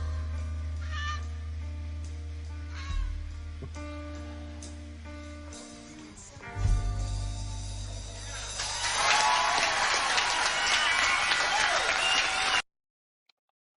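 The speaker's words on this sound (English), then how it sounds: "definitely earned that applause" Recorded applause for a live song performance rises as the music ends, a broad, steady wash of clapping that swells over the final notes and then cuts off abruptly.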